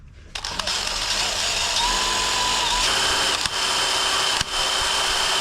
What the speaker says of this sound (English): Now we're just dulling drill bits is all we're doing.